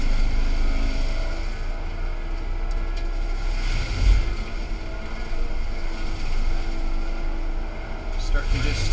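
A forestry mulcher engine runs steadily at 2200 RPM inside the cab, a continuous low drone with a slight surge partway through.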